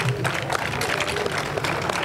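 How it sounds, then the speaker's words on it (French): An audience at a dance festival in Ouidah applauds the dancers, a dense wash of clapping and crowd noise that stays steady and fairly close throughout. "Un grand bravo sous vos applaudissements, s'il vous plaît."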